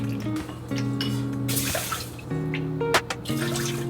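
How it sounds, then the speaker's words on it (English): Water running from a tap into a pot of white jasmine rice in a home kitchen, a steady pour lasting several seconds with a few brief breaks and splashes, close and clear with no talking. "Throw in 2 cups of water."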